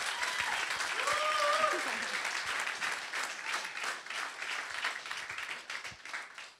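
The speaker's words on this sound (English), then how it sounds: "So a round of applause for them." Audience applause fills a room at an evening film screening and talk with skateboarder Rodney Mullen, a steady wash of many hands clapping that swells early, then thins slightly while continuing throughout.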